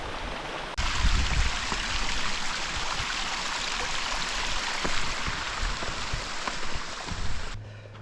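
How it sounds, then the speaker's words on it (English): Small cascades on Hinchinbrook Island, Australia, pour into a swimming hole with a steady, even rush of water that fills the whole span alone, close by and unbroken. "Cute little cascades there leading down to a nice looking little swimming hole."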